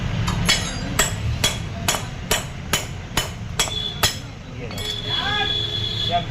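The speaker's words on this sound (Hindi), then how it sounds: "नया बोल्ट लेना है, इसमें घुसा देना है और उसको ठोक देना है हथौड़ी से" A hammer strikes a wheel bolt on a Maruti Omni about ten times at a steady rhythm with sharp metallic clanks, close by, followed by a lower rumble and faint background sounds.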